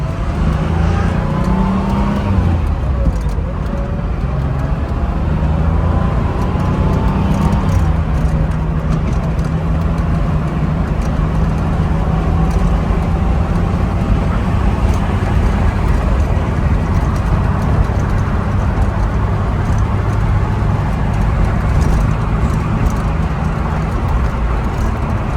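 A 1982 Porsche 911 Targa engine runs steadily at close range, a loud continuous rumble that holds its pitch with no talking over it.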